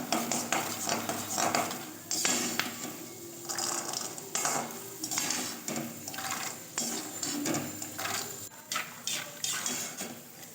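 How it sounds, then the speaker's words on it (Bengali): Peanuts stirred and fried in oil in a pan, with steady scraping and clinking of a utensil against the metal over a continuous soft sizzle, close and moderately loud. "বেশ ভালো করে নেড়ে নেড়ে মুচমুচে করে ভেজে নেব"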